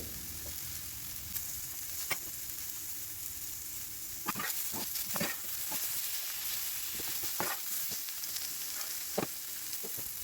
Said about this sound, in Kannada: ಸ್ವಲ್ಪ ಬೆಂದ ಮೇಲೆ ಈ ಥರ ಸ್ವಲ್ಪ ಉಪ್ಪು ಹಾಕ್ಕೊಂಡು ಮತ್ತೆ ಫ್ರೈ ಮಾಡಿದರೆ ಇನ್ನೂ ಬೇಗನೆ ಸ್ವಲ್ಪ ಬೇಯ್ಕೊಳ್ಳುತ್ತೆ